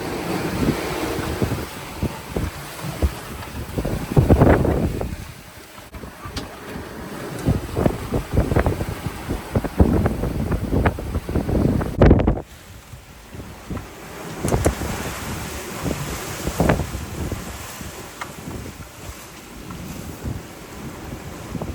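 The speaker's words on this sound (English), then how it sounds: "Wind's picked up pretty strong." Strong, gusty wind at sea buffets a 28ft sailboat, roaring and thumping across the microphone in uneven bursts over the wash of waves and water along the hull.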